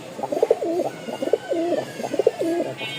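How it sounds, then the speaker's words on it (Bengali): A female pigeon for sale at a Mirpur pigeon market coos close by in three soft, rhythmic, repeating calls that roll in a low, throaty burble, heard alone. "কবুতরই কথা বলবে"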